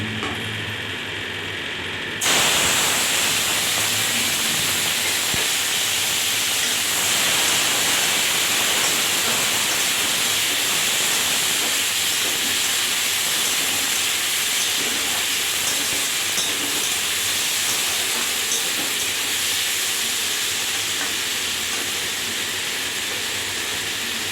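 Tomato chutney sizzling in a pan tempered with panch phoron and dried chillies, with chopped tomato, cashews, raisins and sugar; a loud, steady hiss begins abruptly after a couple of seconds and continues evenly throughout.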